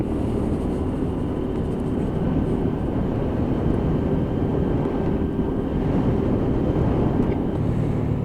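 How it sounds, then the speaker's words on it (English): A WK Scrambler 125cc motorcycle engine idles with a steady, low rumbling drone with a slight growl, close and continuous throughout. "you can have a listen to the purr of this engine"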